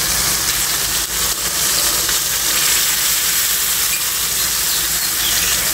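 Loud, steady sizzling and hissing come up close as beaten sour yogurt is added to fried masala in hot oil for a jackfruit kofta curry, with a faint stirring clink and no talking.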